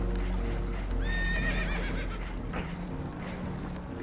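Spooked horses whinny shrilly in Red Dead Redemption 2, aboard a damaged boat taking on water. A couple of loud, quavering neighs come close by over hoof clatter and a low rumbling background.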